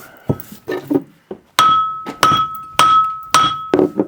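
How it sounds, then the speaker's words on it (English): A hammer strikes a seized part on an old Harker steam engine during restoration. About eight sharp metallic clanks come at irregular intervals, several leaving a clear ringing tone. "We'll have a bit more whack at it and see if it will give in."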